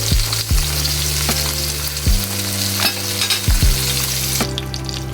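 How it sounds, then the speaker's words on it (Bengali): Koi fish sizzle in hot oil in a pan, a loud continuous fry broken by several sharp clanks and scrapes of a spatula as the pieces are turned, with no one talking. "আর দেখো মাছ ভাজাগুলো একদম কমপ্লিট হয়ে গেছে"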